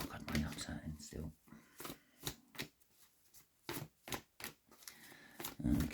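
Tarot cards are shuffled in quick, crisp riffling bursts, repeated several times at close range, with a voice speaking at moments in between.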